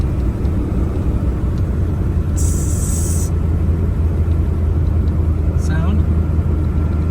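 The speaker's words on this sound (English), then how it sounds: "So you hear the turbo going. This is me hitting the gas." A truck engine with a suspected turbo fault rumbles steadily under throttle. A bright, high whine rises over it for about a second, and a short falling whistle follows near the end.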